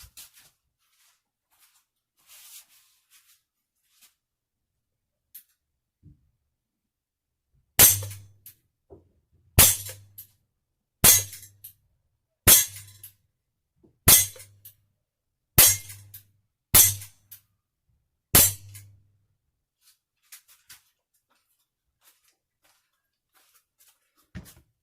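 An Umarex Walther PPQ CO2 air pistol fires H&N Sport pellets in eight sharp, evenly spaced shots, each a loud crack with a short thump, set between stretches of near silence.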